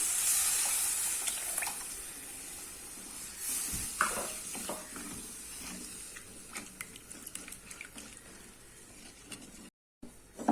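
Tamarind water poured into a hot pan of sautéed garlic for rasam, setting off a steady sizzle and hiss that fades gradually, with small clinks and stirring sounds along the way.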